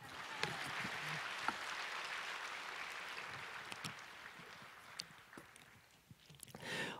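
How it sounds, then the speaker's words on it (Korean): A church congregation applauds, the clapping soft and somewhat distant, holding steady before fading, with a few sharper claps near the end. "이럴 때 박수 한번 주시죠."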